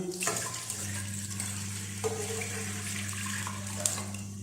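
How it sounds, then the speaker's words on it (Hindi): Steady stream of tap water running into a pressure cooker, a liter added for cooking chickpeas, with a low hum underneath and a few faint clinks; continuous and fairly quiet, no talking. "1 लीटर पानी हम इसमें शामिल करते हैं।"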